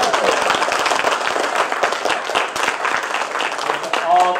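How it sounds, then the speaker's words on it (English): Dense, steady clapping fills the room as a church-associated gathering applauds, loud and continuous throughout, with crowd murmur mixed in. "Let's give them an applause."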